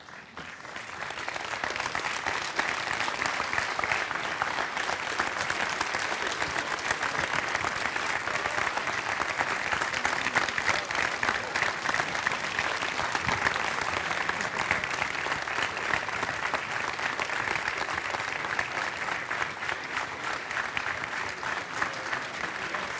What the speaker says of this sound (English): I'd like to bring the team up and give them a round of applause.